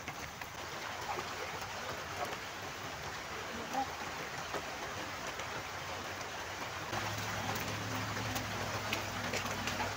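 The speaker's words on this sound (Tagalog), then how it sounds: "ang ulan hindi na tumitigil at padilim na" Steady rain falls outdoors at dusk during a fishing trip for tilapia, a continuous broadband hiss lasting throughout, with a low hum entering near the end.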